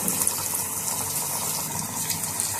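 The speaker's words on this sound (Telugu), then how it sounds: "ఆయిల్ కాగింది, మనం వేసుకుందామండి." Bottle gourd bajji fritters frying in hot oil over medium flame give a loud, dense, steady sizzle that holds evenly throughout with no voices.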